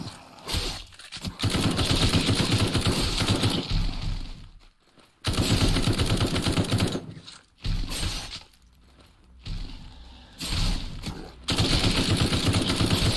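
Rapid automatic gunfire rattles in long, dense bursts while zombies are gunned down during a horde night in the Night of the Dead video game, broken by a few brief quiet gaps between volleys.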